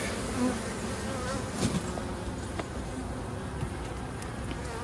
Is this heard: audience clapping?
no